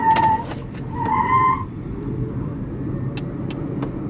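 A Dacia Spring electric car speeds up from a standstill toward 100 km/h on a closed, empty road. A couple of short whining tones come first, followed by steady road rumble and a few sharp clicks.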